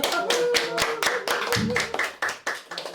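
Hands clap in a steady, rhythmic beat, sharp and close, while a voice speaks or sings briefly underneath.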